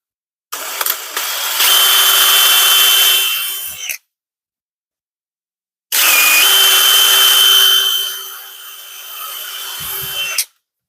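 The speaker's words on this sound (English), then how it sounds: "I know that's not how a speed drill works" A power drill bores into a custom gauge cluster panel in two loud bursts of several seconds each, its steady motor whine running through a gritty grinding of the bit, with a silent gap between them.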